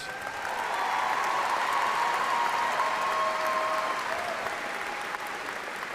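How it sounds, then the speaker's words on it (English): Sustained applause from a large graduation ceremony audience honoring doctoral graduates, steady and full throughout, swelling in the first second and holding at an even level, with no talking over it. "Please join me in extending another round of applause for our doctoral graduates."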